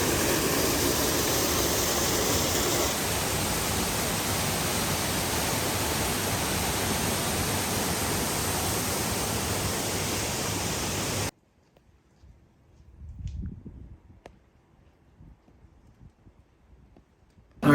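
A waterfall in lush green surroundings on a hike gives a loud, steady rushing roar that holds unbroken for about eleven seconds, then cuts off abruptly to quiet outdoor ambience.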